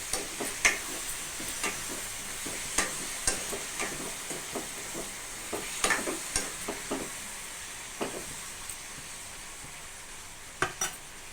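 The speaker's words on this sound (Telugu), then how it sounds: "ఇప్పుడు ఒకసారి ఇలా కలుపుకుందాం." A curry of endu nethala (dried fish) simmers softly in a pan while a spoon knocks and scrapes against the sides, giving a string of sharp, irregular clicks over a faint sizzle, with no talking.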